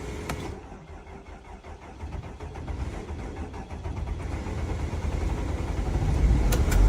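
A Sprinter van with about 278,000 miles on it cranks over after its glow plugs warm, then its diesel engine catches and rises in a steady, building rev, close by and with no talk.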